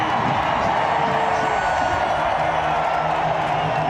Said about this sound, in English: the crowd was completely cheering him the whole time